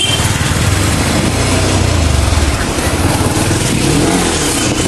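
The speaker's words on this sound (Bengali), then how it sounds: "গাইস এখন হচ্ছে আমার ফ্রেন্ডে নিয়ে আমি এখন বাইক চালাবো" A motorbike engine revs as a ride with a friend gets underway during an Eid outing, a loud, steady, throbbing drone close by with no speech.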